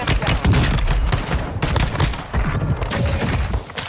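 Video game gunfire in a sustained, loud burst of rapid shots and booms, dense and continuous throughout with brief dips, no talking over it.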